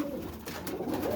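Boston ripping roller pigeons coo softly inside a loft on a Saturday morning, with low, rolling calls rising over the steady background hum of the loft.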